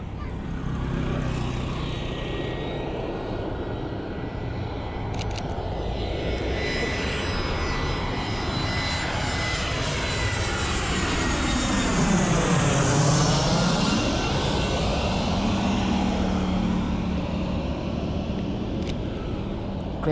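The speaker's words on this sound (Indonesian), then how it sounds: "Pesawat pertama" A propeller airplane roars as it flies low overhead, a steady loud drone that rises and falls in pitch as it passes. The engine sound is heard alone at a street-side spot.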